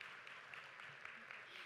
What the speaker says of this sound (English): how about a round of applause for our panel today?